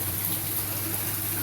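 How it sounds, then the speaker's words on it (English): Water flows steadily through an aquaponic system in a backyard greenhouse, a continuous close broadband rush with a low pump-like hum beneath it and no talking. "the water is flowing and doing its thing throughout the greenhouse"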